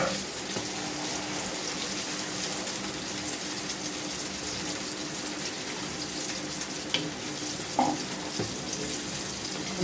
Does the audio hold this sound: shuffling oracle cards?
no